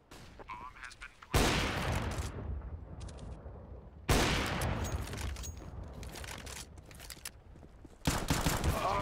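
Bursts of gunfire in Counter-Strike: Global Offensive, loud sustained volleys cutting in abruptly three times, with the game's announcer voice faintly heard between them.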